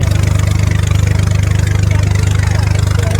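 A tourist boat engine idles and chugs steadily up close at Pathala Ganga near Srisailam, a loud low rhythmic throb running throughout without a break.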